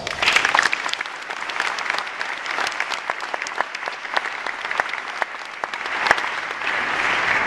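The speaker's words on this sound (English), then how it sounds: "I think you all deserve a round of applause." A room full of people breaks into sustained applause, dense clapping that carries steadily throughout with a few sharper individual claps standing out, loud and continuous with no talking.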